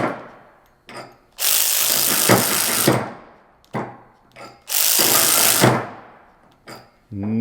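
A Harbor Freight Earthquake impact wrench hammers against a stubborn nut in two loud, sustained bursts of rapid rattling impacts, close by, separated by brief clunks and quieter handling noise.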